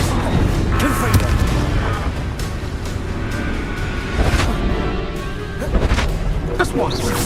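Repeated booming spell blasts from Confringo in Hogwarts Legacy burst out amid dense game combat noise, loud and close, with several sharp impacts spread across the stretch.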